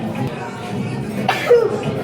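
A single short sneeze bursts out near the end amid indoor background murmur, close by and fairly loud.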